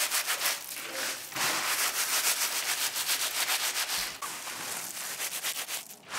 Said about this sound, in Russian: Вы можете также установить решетку на ведре и потереть цветочные головки над ним.